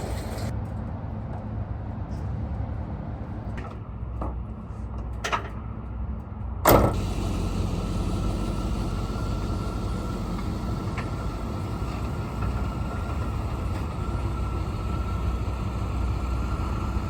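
An Oldsmobile Cutlass idles and rolls in with a steady low engine drone, a clunk partway through, then a louder, fuller running sound that holds to the end.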